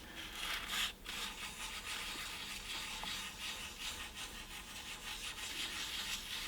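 Light, careful hand sanding on the headstock logo area of a Gibson SG Special, a soft continuous close rubbing hiss with gentle uneven strokes and no voices.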